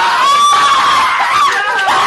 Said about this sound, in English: Hoseok screams for help.